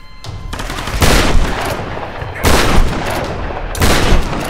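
Shotgun blasts from the Tomb Raider game (Survival Edition, PC) land in three heavy, booming bursts spaced about a second or more apart, each decaying into a rumbling tail during a firefight.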